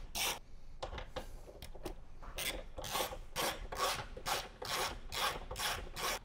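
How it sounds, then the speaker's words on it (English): Bolts, 4 1/2 inches long, are tightened with a hand tool during a Rockford Fosgate speaker installation on a 2014-or-later Harley-Davidson, making steady, evenly spaced rasping strokes, quiet and close. "Now we can tighten the 4 1/2-inch bolts up."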